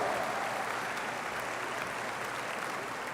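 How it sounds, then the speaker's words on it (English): Sustained audience applause at a high school graduation ceremony, a dense, even wash of clapping from a large crowd that holds steady throughout. "Let's give our students with perfect attendance a big round of applause."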